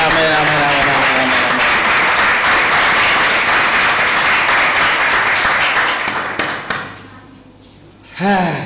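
A church congregation claps and cheers for the Lord, a dense, steady wash of applause that holds loud for several seconds, then thins out with singing or chanting voices rising near the end.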